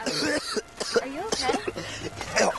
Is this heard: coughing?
yes